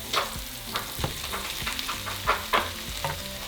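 Ground beef frying with onions in a pan, a continuous close sizzle broken by repeated scraping strokes of a utensil stirring and breaking up the meat, no talking.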